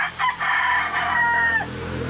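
A single rooster crows once, close and loud, in one long rising and held call that fades at the end, with no other voices.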